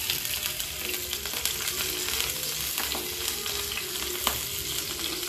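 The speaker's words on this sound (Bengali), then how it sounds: "তেলটা গরম হলে তেলের মধ্যে সব আদা কুচি, রসুন কুচি আর কাঁচা লঙ্কা কুচি দিয়ে দেবো।" Chopped ginger, garlic and green chili sizzle in hot oil, a loud continuous frying crackle up close, with occasional spoon clinks and stirring scrapes, no speech.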